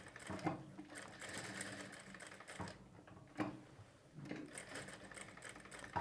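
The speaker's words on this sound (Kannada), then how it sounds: "ನಾನೀಗ ಡೈರೆಕ್ಟಾಗಿ ಕ್ಯಾನ್ವಾಸ್ ಮೇಲೇ ಆ ಶೇಪ್ ಏನಿದೆಯೋ ಅದ್ರ ಮೇಲ್ಗಡೆ ಹೊಲಿಗೆ ಹಾಕ್ಕೊಳ್ತೀನಿ" A sewing machine stitches around a cut-work blouse back-neck shape directly on canvas at a quarter-inch margin, running in short rhythmic bursts with brief pauses, close and clear with no talking.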